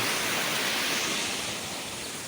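Floodwater streaming across a farm field after heavy rain, a constant close rushing wash of water that holds steady throughout with no voices.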